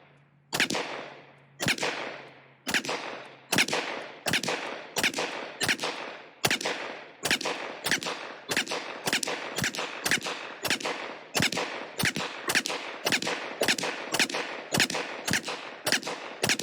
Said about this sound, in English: Next is a Ruger PC Charger, chambered in standard 9mm Luger